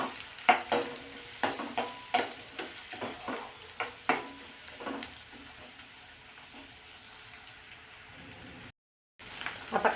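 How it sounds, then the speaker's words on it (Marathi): Finely chopped onion sautés in oil for an aloo methi potato and fenugreek dish, with a string of close spoon-scraping and stirring knocks over a soft sizzle, then a quieter stretch and a short break before stirring resumes. "असा बारीक चिरून घ्यायचा आणि तो सुद्धा तेलावरती परतून घ्यायचा"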